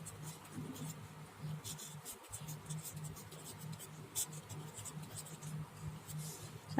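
A pen or marker writes on a board or paper during a maths lesson, soft scratchy strokes coming in short bursts over a faint steady hum, close and quiet.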